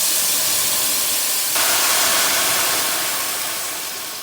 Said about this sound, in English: While the steak is resting, I'm pouring some bourbon in there.